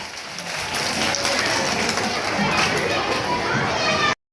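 A school audience, children among them, applauds at an Ozhukur school Christmas programme, a dense, steady wash of clapping and crowd noise that holds at full strength for about four seconds before cutting off abruptly.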